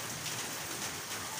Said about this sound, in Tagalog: ang lakas ng ulan, ang lakas ng ayan o, kumukulog pa